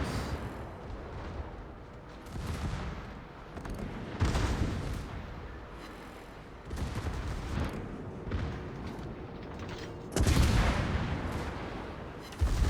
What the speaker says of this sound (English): we can just shoot armor piercing into this guy's side now